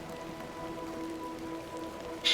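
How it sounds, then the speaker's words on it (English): Steady rain falling in The Excavation of Hobs Barrow game, a soft even hiss with faint tonal background music and a brief brighter sound right at the end. "A little rain is no bother."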